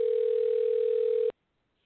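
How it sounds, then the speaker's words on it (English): Outgoing telephone call tone: a single steady electronic beep held for over a second, then cut off into silence. "Come on, Stephen, answer the phone, buddy."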